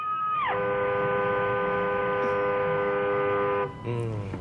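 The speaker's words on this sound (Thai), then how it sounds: "บีบแตรสนั่น" A loud, sustained car horn blares continuously for several seconds, drops off briefly, then sounds again with a slightly bent pitch.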